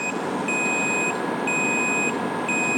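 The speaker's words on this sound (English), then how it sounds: "Kick on that air fryer." An air fryer running from a Bluetti EB200P power station beeps in a repeated pattern of clear electronic tones over a steady whir of fan noise, with no talk.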